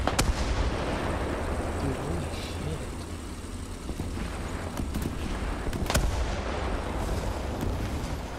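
Rumbling artillery and gunfire from a War Thunder tank battle, a dense continuous barrage with sharp blasts near six seconds, steady and loud throughout with faint voices mixed in.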